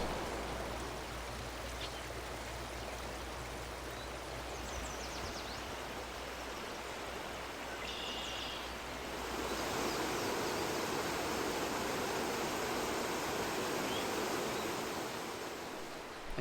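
Steady broadband rush of a mountain stream tumbling down a series of waterfalls in North Carolina headwaters, constant and enveloping, getting slightly louder midway, with no voices.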